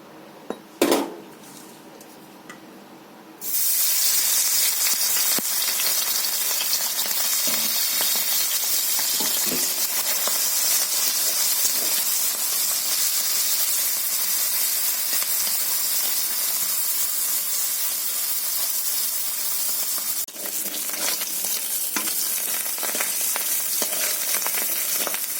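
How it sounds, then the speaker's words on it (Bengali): Fish frying in hot oil in a pan, a loud continuous sizzle that bursts in after a few quiet seconds and holds steady close by, with occasional faint clinks of utensils. "তো মাছটা আমি এখন ভেজে নেব বন্ধুরা।"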